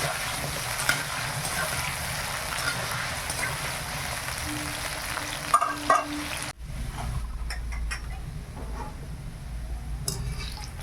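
Salted potatoes fry in a kadai, sizzling steadily and close for several seconds, then the sound drops abruptly and a quieter, sparser crackle follows with occasional clinks of utensils.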